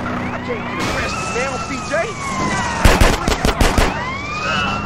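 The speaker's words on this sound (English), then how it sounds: "I'm shooting at the damn blur, CJ." In GTA San Andreas, a quick burst of gunfire cracks out loud and near over wailing police sirens and traffic, with voices talking through the scene.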